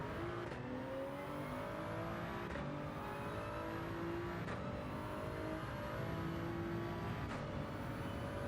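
Race car engine in a racing video game at the Red Bull Ring, a continuous high-revving whine climbing in pitch through repeated gear shifts, roughly four upshift cycles, steady and loud with no talk.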